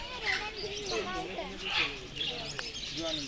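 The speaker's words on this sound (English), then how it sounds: "The second bird aviary, they are just small birds around." Small birds chirp and tweet in a zoo aviary on a rainy day, light repeated calls scattered through the clip while a person talks over them.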